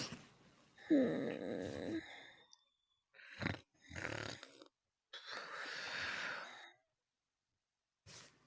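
A voice imitates loud snoring during a Rec Room roleplay game: several drawn-out, breathy snores separated by short silences, close but fairly quiet.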